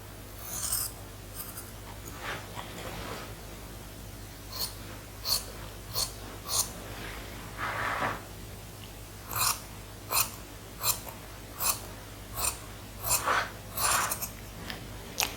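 Scissors trim a fabric lapel on a garment being made, giving a series of short, crisp snipping cuts that grow steadier and more regular in the second half, close and fairly quiet with no talking.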